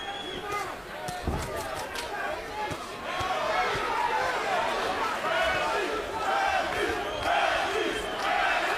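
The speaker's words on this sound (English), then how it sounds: "Crowd is beginning to chant for Tim Bradley." A boxing arena crowd chants for fighter Tim Bradley, a loud rhythmic mass of voices that swells and holds steady, with scattered thumps and a commentator talking over it.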